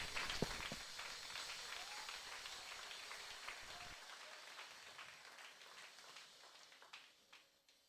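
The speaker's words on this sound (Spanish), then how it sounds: "Denle un aplauso al Señor." A church congregation applauds the Lord during a sermon, a quiet, steady wash of many hands clapping that slowly thins and fades over several seconds.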